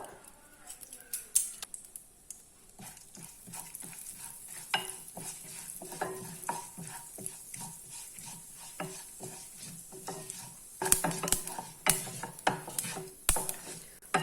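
Chopped onion sautéed in oil with cumin, mustard seeds and fenugreek: soft sizzling under repeated scraping and stirring strokes with a spoon, close and fairly quiet, with a few sharp clinks of the utensil against the pan.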